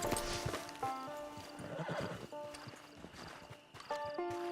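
A horse in the Red Dead Online video game whinnies repeatedly over clip-clopping hooves, close and clear, with game music tones layered beneath.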